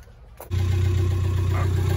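Camper van fitted with a swapped PD130 diesel engine cranking and catching after half a second, then settling into a loud, steady, low rumbling idle close by.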